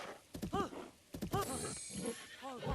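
A horse in the video game Zelda Breath of the Wild whinnies three times in quick, quavering bursts, with soft hoof clip-clop and other game sounds underneath.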